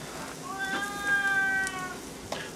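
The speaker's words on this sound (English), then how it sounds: "My cat came over." A cat close by gives one drawn-out, rising and falling meow, clear and fairly loud over quiet room noise, then a short faint sound near the end.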